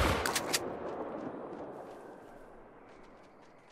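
A single rifle gunshot in the hunting video game The Hunter: Call of the Wild, a sharp loud crack at the start followed by a long rumbling echo that slowly fades across the landscape.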